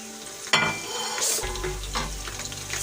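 Ginger and garlic sizzle and crackle in hot oil with light-browned onions as they are stirred in a pan, the frying hiss steady and close with a brief scrape of the spoon.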